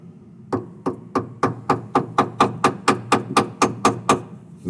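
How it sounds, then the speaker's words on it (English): A hammer taps a workpiece down onto parallels in a mill vise on a Tormach 440, giving fifteen evenly spaced, sharp metallic knocks at a steady rhythm, close and clear, with no talking. "Going to use this hammer."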